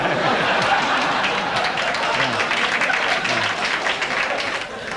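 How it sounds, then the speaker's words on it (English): A comedy audience gives a brief, moderate round of applause during a stand-up set about Reagan and Mondale, with scattered claps and murmurs and a faint voice underneath, thinning slightly at the end. "thank you for bordering on applause"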